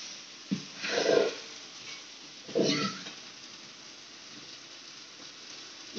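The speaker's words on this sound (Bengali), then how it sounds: "এবার জল দিয়ে দেবো।" Water poured into a hot pan of chana dal: two short hissing, bubbling bursts about a second and a half apart, close by, then a soft low simmer.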